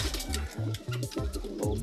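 Pigeons coo close by in soft, repeated low murmuring calls, with faint background noise.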